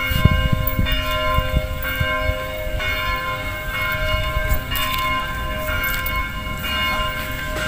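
Church bells ring steadily with sustained, layered tones over a rumbling background, loud and continuous throughout.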